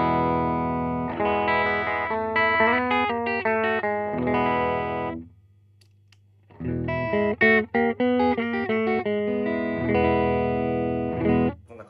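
An electric guitar played through a Golden Valve pedal in its clean setting rings out in funky chord phrases, loud and close, with a short near-silent pause midway before the playing resumes.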